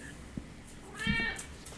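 A pet cat lets out a single short meow partway through, fairly soft against a quiet room background, with no talking.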